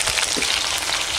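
Chopped onion with ginger and garlic paste frying together in a pan for a village-style mutton dish, a loud, dense, steady sizzle close up with faint stirring and no voices.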